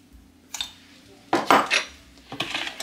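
A spoon scrapes and clinks around a bowl while stirring milk, sugar and crumbled yeast, with three separate bursts of metallic scraping, the middle one longest and loudest, and quiet gaps between.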